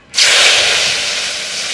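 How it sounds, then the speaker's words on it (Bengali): Water hitting a hot kadai just after frying fish: a sudden loud burst of hissing steam that starts abruptly and stays strong and steady, easing only slightly over a couple of seconds. "মাছ ভাজা হয়ে গেছে, ওই কড়াইতে জল দিয়ে দেবো।"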